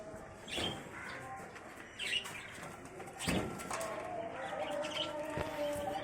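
A hunting pigeon flaps its wings in short bursts near a farmyard, with faint chirps and coos around and no speech.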